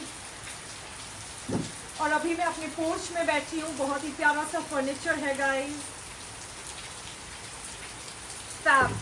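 Steady rain patters on and around a porch, a constant wash under someone speaking softly throughout.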